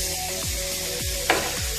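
Beef and vegetables fry in a pan as oyster sauce is added, giving a loud, even sizzle with a brief scrape of stirring close by.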